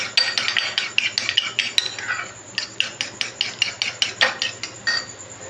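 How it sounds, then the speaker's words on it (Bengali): An egg is whisked in a bowl with quick, even clinks of utensil against the dish, about three or four strokes a second, close and steady with one brief pause, and no talk. "এটা দিয়ে খুব ভালো করে মিশিয়ে নেব"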